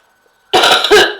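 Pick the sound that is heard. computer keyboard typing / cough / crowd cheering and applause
cough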